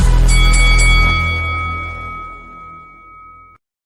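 A single struck bell marks the start of a debate clock, one loud close ding that rings clear and slowly decays over a few seconds before stopping abruptly.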